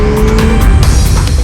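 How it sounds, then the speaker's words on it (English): MV Agusta Turismo Veloce 800 Lusso motorcycle with a 798cc engine, roaring loud and close in a short sustained burst with a rising tone, no talking. "And the roaring of this engine is absolutely addictive."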